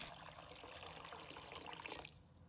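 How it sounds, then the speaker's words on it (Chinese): Clean water pours into a bowl of washed peanuts, a steady broadband splashing trickle that runs for about two seconds at close range and then drops off, with no talking. "再倒入清水，"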